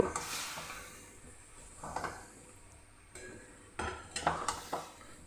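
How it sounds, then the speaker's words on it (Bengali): Marinated chicken is stirred in a pan for chicken kosha, giving soft scraping swishes with a few sharper clinks of a utensil against the pan, moderately quiet with no talking. "এরপর খুব ভালো করে চিকেনটাকে মিশিয়ে নেব"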